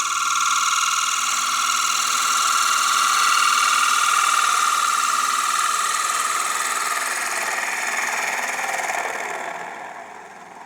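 A light turning cut on a wood lathe during a production run of turned pieces, a steady high whine that holds alone and then tapers off near the end.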